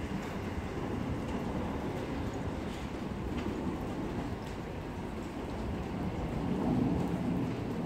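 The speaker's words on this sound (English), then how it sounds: "That's a plane, isn't it?" A plane passing overhead near railway lines, a deep continuous broadband rumble that swells slightly toward the end and is easily mistaken for distant thunder, steady and alone with no talk.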